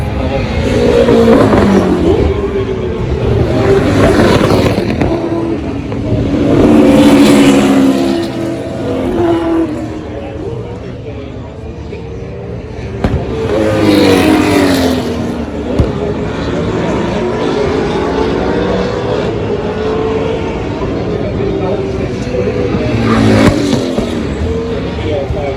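Race cars at the Adelaide Motorsport Festival in 2024, a field including F1, GT3, hypercars and V8 Supercars, rev and pass in several loud sweeping surges over a steady engine drone, with a commentator talking over the top.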